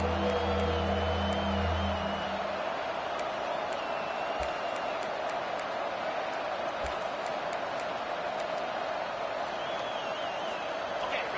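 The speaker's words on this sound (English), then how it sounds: "The crowd elevating its energy, willing this defense to get a stop on this big third down." A football stadium crowd roars through a big third-down defensive play, a broad sustained wall of cheering and whoops that holds steady throughout, with brief voices at the start.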